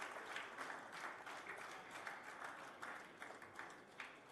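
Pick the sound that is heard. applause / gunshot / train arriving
applause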